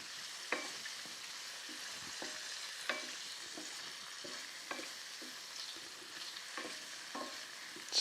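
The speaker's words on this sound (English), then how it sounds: "And then incorporate all these mushrooms into that butter." Mushrooms frying in browned butter while being stirred, a soft continuous sizzle punctuated by scraping stir strokes every second or so, close and fairly quiet with no voices.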